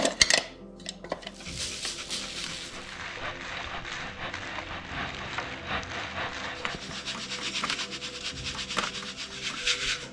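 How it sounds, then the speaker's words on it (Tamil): Flour being worked through a fine-mesh sieve for Sri Lankan kokis batter, a steady gritty rubbing and scraping with light metallic rattles from the sieve, close and continuous, with no talking. "இதை வந்து நல்லா சின்ன கண் அரிக்கனால வடிவாக அரைச்சி எடுப்போம்"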